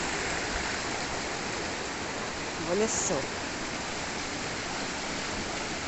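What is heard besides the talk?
water flowing down rocks at a waterfall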